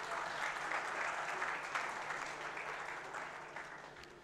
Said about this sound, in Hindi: इस पर आप सबकी भरपूर तालियां होनी चाहिए।